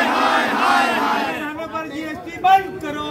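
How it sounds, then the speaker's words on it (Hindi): Protesters rally against the central government over GST on essential goods, a loud crowd of voices chanting and shouting slogans together at close range, with a rougher burst of yelling near the end. "कार्यकर्ताओं द्वारा केंद्र सरकार के विरोध में जमकर नारेबाजी की गयी।"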